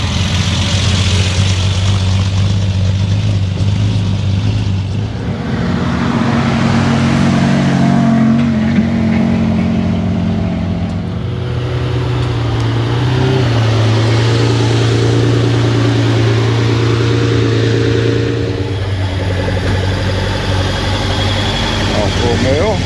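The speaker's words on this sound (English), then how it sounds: "Triumph TR6." A Triumph TR6 classic car's engine runs steadily at a concours car show, a loud continuous low hum with slight changes in pitch, set against outdoor crowd noise.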